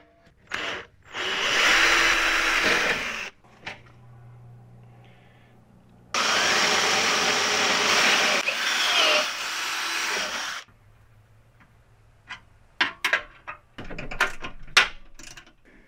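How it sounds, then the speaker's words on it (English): A power drill fitted with a 90-degree right-angle attachment whirs loudly in two sustained bursts of a few seconds each, with quieter gaps and scattered clicks and knocks between them. "we're going to use a 90 degree drill attachment"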